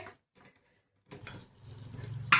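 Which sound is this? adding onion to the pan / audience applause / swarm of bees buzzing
adding onion to the pan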